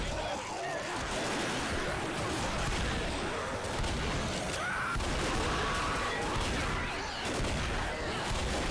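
Mounted gun fire in a Left 4 Dead co-op game, a dense, continuous barrage of shots and crashes running the whole stretch at steady loudness, with players' voices faintly mixed in.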